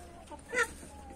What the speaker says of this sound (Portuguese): é o galo aí, pescoço pelado mais velho da criação